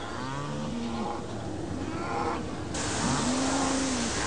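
Dairy cows on a farm lowing in long, drawn-out moos, two clear calls a few seconds apart over steady outdoor background noise, with no talking.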